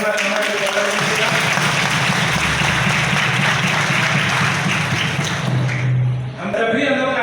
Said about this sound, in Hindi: मैं तालियों के साथ अभिनंदन और स्वागत करना चाहूँगा।